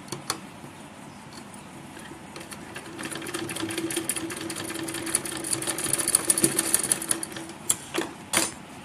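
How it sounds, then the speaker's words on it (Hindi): Sewing machine stitching a palazzo trouser seam, a steady close rapid whirring that builds in the middle and ends with a few separate clicks and thumps; no talking. "ये इसे पूरा सिल लिया है और अब इसे ऊपर से भी पक्का कर देंगे"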